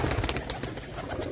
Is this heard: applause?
no